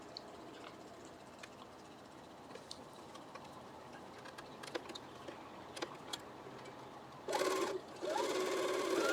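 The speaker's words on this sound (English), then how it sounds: "I'm chain piecing these, which means I am doing them one after another" Sewing machine with a 1/4 inch foot chain piecing flying geese quilt blocks: quiet intermittent ticking and light mechanical clicks, then two louder bursts of fast stitching near the end.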